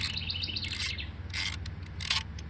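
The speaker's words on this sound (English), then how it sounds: "all that music is coming from a tiny little bird" A tiny bird sings outdoors in a bright run of quick chirps and trills, fairly close and clear, over a low steady background hum.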